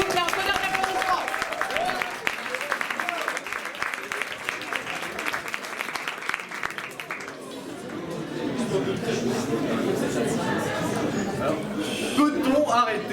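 Audience applause and crowd cheering at an improv eloquence contest on stage, a dense, steady wash of many hands clapping that builds louder toward the end, with chatter and voices mixed in.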